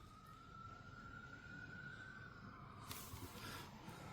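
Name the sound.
sirens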